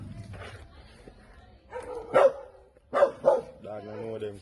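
A few short dog barks, near and fairly loud, in a quick burst after a quiet stretch, with some low voices around them.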